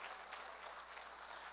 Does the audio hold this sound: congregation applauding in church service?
yes